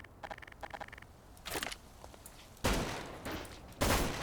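Gunshots from a customizable weapon hit a stone wall in Garry's Mod: a rapid burst of light automatic fire, then a few heavier, loud booming shots with impact crunch, close and unaccompanied by talk.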